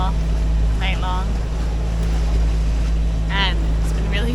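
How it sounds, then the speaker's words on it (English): A sailboat's engine drones steadily while motoring at sea overnight against the current, a constant low rumble with wind noise and a couple of brief voices over it. "We've been running the engine all night long"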